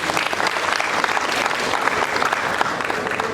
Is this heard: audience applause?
yes